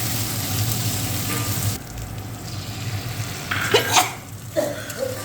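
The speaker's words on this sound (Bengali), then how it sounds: "ভেজে নিচ্ছি।" Poppy seed paste with fenugreek, nigella and green chilli fries in a pan, a close sizzle that drops abruptly partway through, followed by scattered louder spits and crackles, with no one speaking.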